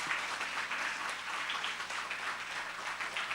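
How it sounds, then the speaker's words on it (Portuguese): A church congregation applauds during a live Sunday celebration service, a short, fairly faint wash of many hands clapping steadily for a few seconds. "Você pode aplaudir o Senhor."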